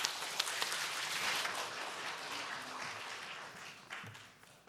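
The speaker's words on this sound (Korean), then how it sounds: "목사님 나오실 때 기쁨의 박수로 함께 환영해 주시면 감사하겠습니다" Church congregation at a Thanksgiving Sunday joint service clapping to welcome the pastor, a moderate, fairly distant wash of applause that slowly fades out over a few seconds.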